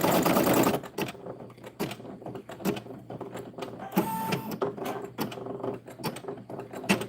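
A sewing machine stitches a skirt for an American Girl doll, giving close, fast rhythmic mechanical clatter in uneven bursts with brief pauses and a short whirring run midway, no voices heard.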